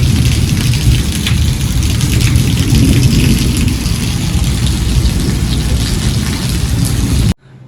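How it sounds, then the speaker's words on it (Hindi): Heavy rain pours down steadily in a loud, dense roar that continues unbroken before cutting off abruptly at the end. "बारिश लगातार जारी है जी, बहुत तेज बारिश होगी जी, बहुत तेज"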